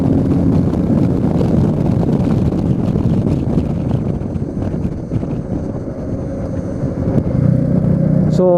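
Royal Enfield Meteor 350 motorcycle at speed on a test ride, a continuous engine drone mixed with heavy wind buffeting on the microphone, easing briefly in the middle before rising again.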